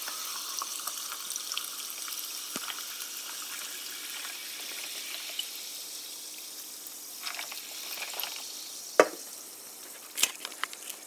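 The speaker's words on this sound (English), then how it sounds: "you open up this classic sparkling water from a can and you pour it into" Sparkling water from a can is poured into a glass, a soft continuous liquid pour with faint fizzing and a few small clinks, quiet and close.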